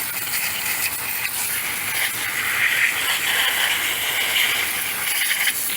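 Pressurised water spray hissing steadily as it rinses down an RC car during cleaning, a continuous broad wash of sound with slight surges, close and alone.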